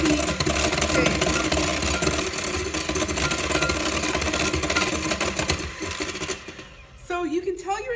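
An electric mixer whips eggs toward soft peaks for a chocolate soufflé, a loud steady whirring motor drone that rattles against the bowl, then drops away near the end as a voice briefly speaks.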